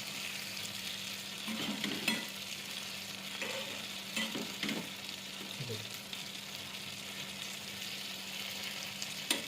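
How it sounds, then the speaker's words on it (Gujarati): Tomatoes, garlic and chilies frying in a pan for Kathiyawadi tomato-garlic chutney, turned over with a few scrapes and clatters above a soft continuous sizzle, fairly quiet and with no talking. "બધા ટામેટાં પલટાઈ દઈશું, લસણ મરચાં થોડા આઘા પાછા કરી દઈશું અને ફરીથી 3 થી 5 મિનિટ ચડાવવા દઈશું"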